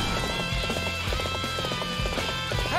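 A horse gallops in the video game Dynasty Warriors Xtreme Legends, its hooves drumming in a rapid, steady clip-clop over loud continuous battle ambience, with game music and noise underneath.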